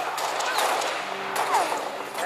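Video game gunfire during a Halo SWAT free-for-all match, a steady clatter of shots and weapon effects running throughout at moderate loudness with no speech.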